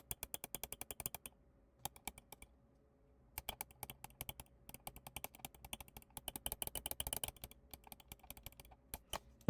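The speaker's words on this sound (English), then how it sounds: "Let me just go ahead and click these first" Omron switch buttons on a Ninjutso Sora V2 mouse clicked in fast, crisp, close bursts of sharp ticks, separated by short pauses, with no talk.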